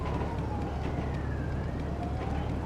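A wailing emergency siren in GTA 5 with the LSPDFR police mod, in a city setting, rises and falls faintly in the distance beneath steady traffic and engine rumble.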